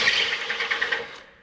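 An impact socket on a 2006 Silverado scrapes and grinds against the wheel plate at a tight 7/8 lug nut, a harsh, close rasping noise with quick rattling pulses that fades out after a second.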